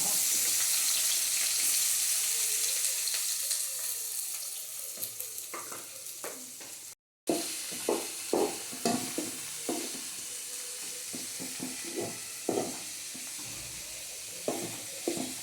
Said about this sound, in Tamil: அதுக்கப்புறம் நம்ம கட் பண்ணி வச்சுருந்த ஆனியன் எடுத்து போட்டுக்கலாம்.